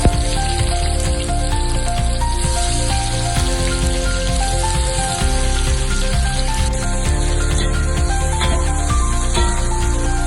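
Garlic and onion sautéing in a pan for roasted pumpkin soup, a steady, loud sizzle with a crackling, rain-like texture that runs continuously throughout without any talking.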